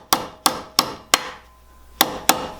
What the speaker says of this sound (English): all I do is I take my ball peen hammer